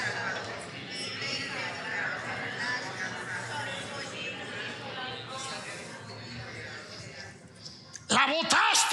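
Horse neighs loudly and close in a short, wavering whinny at the very end, after a long stretch of steady talking with no animal sound, in a sermon about war horses.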